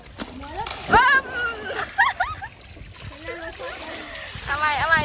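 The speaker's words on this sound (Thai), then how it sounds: "แข่งกระโดดลงไปแล้วก็ว่ายไปถึงโน่นเลยนะ" Children jumping into and splashing in water while swimming outdoors, with bursts of splashing under lively, excited children's voices calling and chattering close by.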